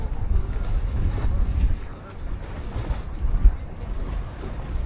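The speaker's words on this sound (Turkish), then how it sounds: "Var rüzgarlı biraz." Steady wind rumbles and buffets outdoors in Marmaris, Turkey, in December, a dense low roar with gusts rising and easing over several seconds.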